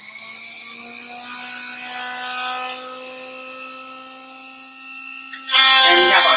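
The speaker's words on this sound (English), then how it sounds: "Now we're going to put it in our milkshaker. And we're going to start it." Milkshake maker motor spinning with a steady high-pitched whine and buzzing hum, close and continuous, ending in a louder, rougher burst of churning.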